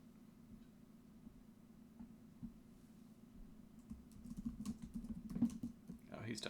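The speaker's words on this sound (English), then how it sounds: "Oh, he's typing." Quick taps on a computer keyboard during a live developer chat, faint and sparse at first and then a busier, louder run of clicks toward the end, with a low hum underneath.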